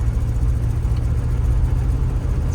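A 1991 Jeep Grand Wagoneer's engine runs steadily while the vehicle is driven, a continuous low rumble and whir under the cabin with no speech, even in level throughout.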